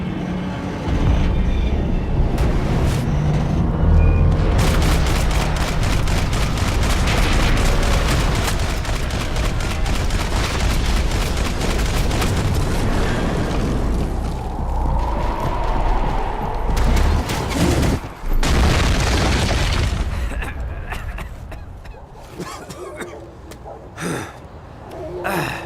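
Loud, dense gunfire and explosions in Max Payne 3, a near-constant barrage of shots and blasts with brief lulls, a heavy boom midway, and scattered shots thinning toward the end.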